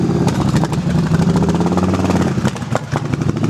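A Yamaha V-Star 1100 motorcycle idles close up while warming up from cold, its loud V-twin loping in an uneven, pulsing rhythm with no talking.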